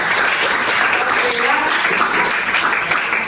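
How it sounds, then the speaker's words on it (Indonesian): An audience claps for Rafael at a teachers' learning-video event in Medan, a short, loud burst of applause that fills the room throughout. "kasih tepuk tangan untuk Rafael"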